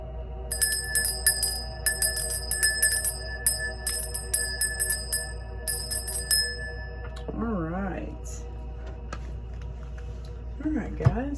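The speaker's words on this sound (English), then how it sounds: "I'm going to ring the bell to begin. It is very loud" A loud hand bell rings in several bright, sustained bursts to open a weekly reading, its tones ringing out over a low steady hum, followed by a brief voice.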